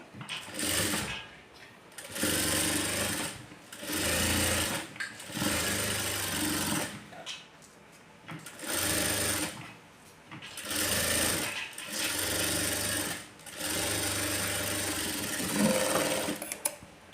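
Sewing machine stitching the folded lining of a blouse, running in repeated bursts of about one to two seconds with short pauses between, steady and close, no voices.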